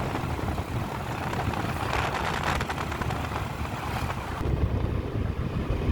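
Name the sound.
strong wind blowing at the coast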